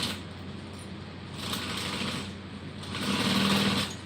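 Sewing machine back stitching the start and end of a bag seam, a continuous close mechanical whir that swells louder in two stretches, with no talking.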